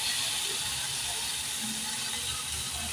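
Chopped onion and whole spring onion greens sauté in a pan while baby prawn masala is cooked: a steady, close, broadband sizzling hiss with faint crackles throughout.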